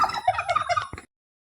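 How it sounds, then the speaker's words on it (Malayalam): Turkeys gobble in a quick, rattling burst of about a second, close and fairly faint, then stop abruptly into silence. "നല്ല തീറ്റയും കൂടിയുള്ള നല്ല ആക്റ്റീവായ ടർക്കി കോഴികളാണ്"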